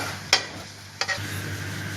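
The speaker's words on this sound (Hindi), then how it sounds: "अब इसमें हम डालेंगे लहसुन का पेस्ट" Garlic paste hits hot oil in a cooking pan, giving two sharp scraping stirs of a utensil over a soft continuous sizzle, close by and without speech.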